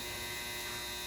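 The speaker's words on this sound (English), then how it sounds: "Sorry about the background noise. I'm doing laundry right now. It's my dryer." A household clothes dryer runs in the background during a ceiling fan tour, giving a steady, even drone with no talk over it.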